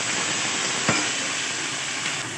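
Cinnamon, cardamom, ginger and garlic fry in a pan for mutton kosha, making a steady, fairly loud hiss and sizzle with one brief clink partway through.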